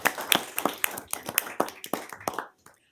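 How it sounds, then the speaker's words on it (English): A small audience at a League of Women Voters candidate forum claps for the candidates, sparse and distinct hand claps close by that thin out and stop near the end. "applause for everyone who's running"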